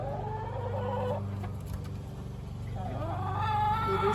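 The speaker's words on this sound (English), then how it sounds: "These are all the big chickens out here right now." Chickens in a backyard coop and run make clucking calls over steady background noise, with some talk in between.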